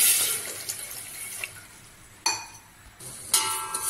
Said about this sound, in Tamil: சர்க்கரை மூழ்கிற அளவுக்கு தண்ணி ஊற்றி சேர்த்துக்கலாம்.